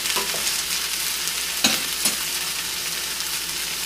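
Strawberry and cream cheese stuffed French toast fries in a pan, giving a constant close hiss with two brief clattering bumps midway as a slice is turned.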